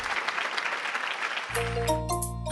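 A crowd claps steadily in dense, sustained applause, then music with held tones comes in as the clapping continues.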